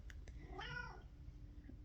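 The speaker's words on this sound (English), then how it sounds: "My cat wants to join in the minute I press record apparently." A pet cat meows once indoors, a single faint drawn-out cry in a quiet room, preceded by a couple of soft ticks.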